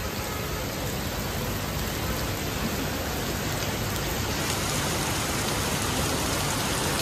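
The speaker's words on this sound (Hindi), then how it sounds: "इस वाली बारिश में अगर कोई नहा लेगा ना तो गारंटी है तबीयत खराब हो जाएगी" Steady rain hisses evenly throughout, a dense wash of drops falling on surfaces nearby with no voices.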